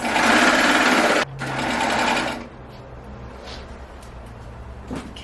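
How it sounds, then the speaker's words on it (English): An overlocker finishes raw fabric edges, running loud and steady for about a second, pausing briefly, then running again before stopping; a quiet remark follows. "So get my overlocker. This is my lovely overlocker."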